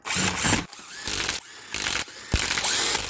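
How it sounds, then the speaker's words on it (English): A low torque impact gun runs lug nuts up on a 2019 Infiniti QX60 during a brake pad and rotor job, giving several loud, close buzzing bursts each under a second long with brief pauses between. "Then use a low torque impact gun just to drive them up."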